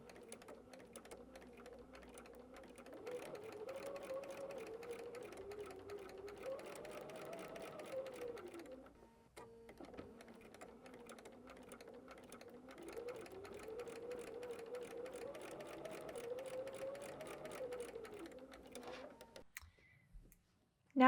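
A sewing machine runs steadily in two long stitching bursts separated by a brief pause, with faint clicks and a quiet room around it.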